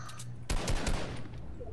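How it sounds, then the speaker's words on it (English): A short burst of video-game gunfire erupts after a quiet moment, several quick sharp shots in a tight cluster at moderate loudness, then trailing off into low background noise. "it's Caleb shooting the thing"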